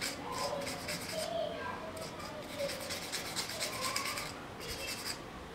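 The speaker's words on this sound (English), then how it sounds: "Take a spoolie and rub it like" A spoolie brush rubs across a strip of false eyelashes, making soft, steady, scratchy brushing strokes that repeat close up for several seconds.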